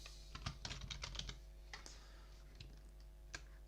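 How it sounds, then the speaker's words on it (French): Quick bursts of keystrokes on a computer keyboard as a city name is typed into a drawing program, close and quiet, a rapid run of clicks followed by a few sparser taps over a low steady hum. "on va taper le nom de la ville"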